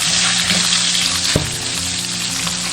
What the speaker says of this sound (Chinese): 锅中倒少许食用油，下入肥腊肉炒出油脂